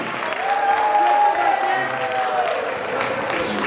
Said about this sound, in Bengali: সো সবাই সেতুর জন্য একটা জোরে হাততালি।